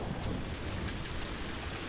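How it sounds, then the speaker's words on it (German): Steady rain in the survival video game Survisland, a continuous broadband hiss of falling water at moderate level with faint scattered drop sounds and no voices. "Oh, es regnet! Es regnet!"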